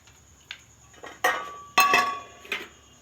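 A utensil stirring half a cup of mung dal in a cooking pot for a temple offering meal, giving five or six sharp, close metallic clinks and scrapes at irregular intervals, with no one talking.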